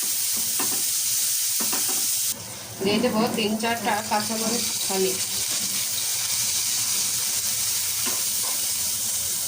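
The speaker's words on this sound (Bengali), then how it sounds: "তেল ছাড় করার জন্য দিয়ে দেবো পেঁয়াজ কুচি আর রসুন কুচি পেঁয়াজটা ভালোভাবে ভেজে নেবো" Chopped onion and garlic fry in oil for a spicy koi fish curry, giving a continuous hiss that runs through the whole clip, with a person talking briefly over it partway through.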